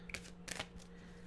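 A deck of tarot cards being shuffled, two short riffling bursts close by and fairly quiet, with a faint steady hum beneath.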